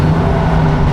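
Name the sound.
Subaru Forester engine with new aftermarket exhaust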